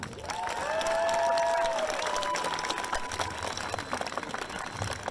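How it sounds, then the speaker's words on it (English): A street rally crowd for Black lives claps and cheers, a broad sustained wash of applause at moderate distance with tonal whistles or horn-like sounds riding over it early on, then thinning out. "Go ahead and clap, show some love."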